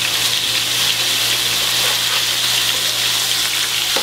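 Hamburger patties sizzle steadily in a frying pan just after being flipped, a dense, even hiss of hot fat that stays loud and close throughout with no voices over it.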